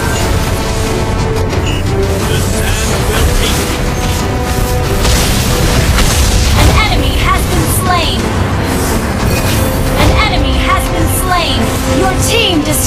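A turret being destroyed in the Mobile Legends video game: loud continuous battle noise with crashing, rumbling impacts and layered effects throughout, music and voices mixed over it.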